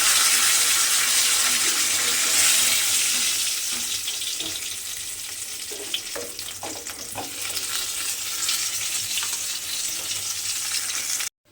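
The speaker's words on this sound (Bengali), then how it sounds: "মাছগুলো আমি এখানে উল্টে পাল্টে লাল করে ভেজে নিয়েছি" Rui fish frying in hot oil: a steady, bright sizzling hiss throughout, with soft scraping and stirring clatter in the middle before it cuts off abruptly.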